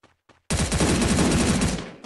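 Submachine gun fire in the Free Fire video game: after two short quiet blips, a loud, rapid continuous burst of automatic shots runs for over a second and then fades.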